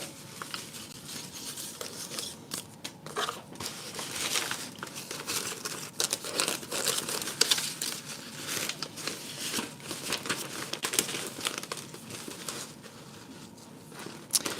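Tissue paper for collage crinkles and rustles up close, in irregular bursts of soft crackling that continue steadily with brief pauses, and no talk over it.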